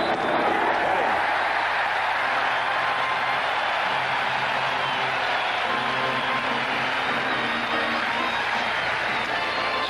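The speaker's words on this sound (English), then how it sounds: "So the crowd roars as Ron Guidry comes up with a strikeout of Steve Garvey" Baseball stadium crowd at a 1981 World Series game between the Dodgers and Yankees roaring after a strikeout, a dense, sustained wash of cheering and applause that stays loud and steady throughout.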